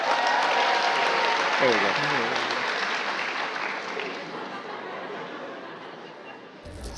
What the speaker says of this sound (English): Give them a round of applause, will you?